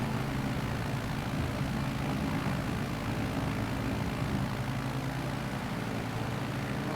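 A small propeller plane climbs into the air with a loud, constant engine and propeller drone that holds steady and close throughout, with no speech.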